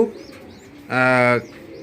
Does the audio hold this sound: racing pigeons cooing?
yes